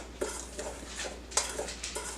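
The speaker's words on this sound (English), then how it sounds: "It said mix well, so we're going to mix it well." A big spoon works through thick blueberry muffin batter, giving soft scraping and clacking strokes against the bowl at an uneven rhythm, close and fairly quiet, with no voices.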